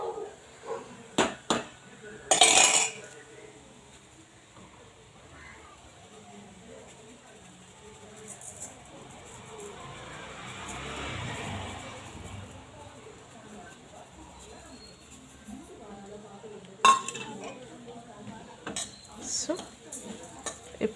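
Sugar stirred into a cooking carrot mixture in a pan, with scattered clinks and scrapes of a utensil against the pan, a few sharp knocks near the start and end, and quieter stretches of soft stirring between.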